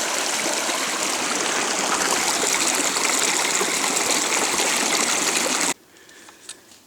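Creek water rushes steadily over a trail crossing on Minnesota's Superior Hiking Trail, a loud, close, unbroken wash that cuts off abruptly near the end, leaving quiet background.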